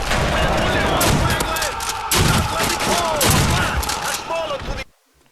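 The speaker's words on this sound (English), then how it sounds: "I'm using the super overpowered trench gun here" A World War I trench gun shotgun fires repeatedly in the Call of Duty video game, loud booming blasts every second or so amid battlefield clatter, ending abruptly in near silence.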